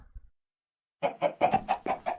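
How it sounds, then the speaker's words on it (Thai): A live chicken clucks in a short series of close, fairly loud clucks after a brief quiet pause, with no voices over it. "อันนี้ไก่แท้เลยตัวเป็น ๆ"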